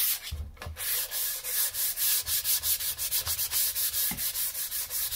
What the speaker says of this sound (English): Kind of get just a little bit finer sand on this, especially on the top part of the shelf.